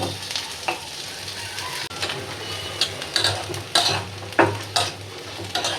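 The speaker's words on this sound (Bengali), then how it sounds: "রসুনটা সরষের তেল দিয়ে সুন্দর করে ভাজা ভাজা হয়ে গেছে" Garlic frying in mustard oil, a continuous crackling sizzle up close with sharp clinks and scrapes of a utensil stirring in the pan, and no voices.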